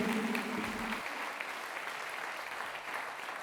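Enthusiastic applause from a Pongal festival debate audience welcomes a speaker to the stage, a dense, steady wash of many hands clapping that continues evenly throughout at moderate loudness.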